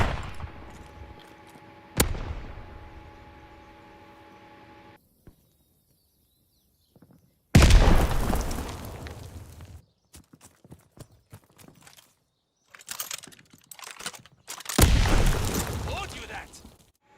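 Grenade launcher tube fired in Call of Duty Vanguard on the Bocage map: a sharp shot rings out early, followed later by heavy, roaring explosion bursts, with scattered clicks and footsteps in between and brief silent gaps.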